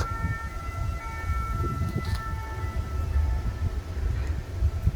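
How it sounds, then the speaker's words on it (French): A police siren wails in the distance on the Île de Versailles in Nantes, France, faint tones held above a heavy low rumble of traffic or a passing train, with no talking. "Même s'il y a les sirènes de la police"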